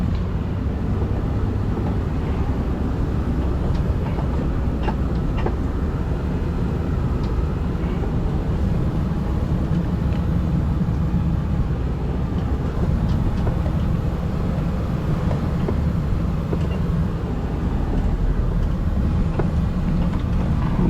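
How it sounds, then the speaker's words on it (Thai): A six-wheel truck loaded with sand backs out, its engine a steady, loud low rumble filling the whole stretch without pause. "รอหกล้อคันนั้นเขาทอยออกมาก่อน"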